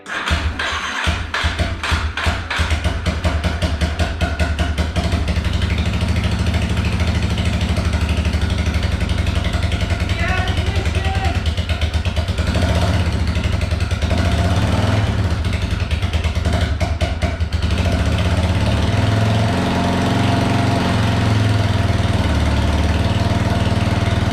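A motorcycle engine runs steadily after a timing chain replacement, a loud close idle with mechanical clatter and a rising rev near the middle, continuous with no talk.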